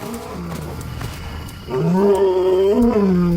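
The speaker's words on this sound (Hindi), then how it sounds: "दो नर शेर अपने 60 स्क्वायर किलोमीटर के इलाके में मालिकाना दहाड़ लगाते हैं" Two male lions roar across their 60-square-kilometre territory in the wild, deep loud rolling roars that swell and build, close and clear with no talking.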